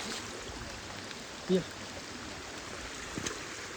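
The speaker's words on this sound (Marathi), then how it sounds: "पाणी बघा मस्त खदून एकदम चाललंय." Water gushes along a channel beside rice fields, a steady low rushing flow heard close by, with a brief bump and faint handling noises but no clear talk.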